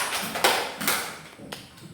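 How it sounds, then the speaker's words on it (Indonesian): A few scattered claps from a classroom of children for a classmate, several soft taps spread across a brief moment, fairly faint. "Tepuk tangan buat Andika."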